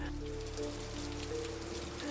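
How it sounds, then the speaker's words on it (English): Steady rain falls in a dense, unbroken hiss over a low background hum, with no voices. "Then the rain came."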